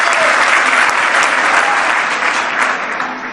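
A big audience at a public event in Nuevo León, Mexico, claps loudly and continuously, a thick wash of applause that holds steady throughout.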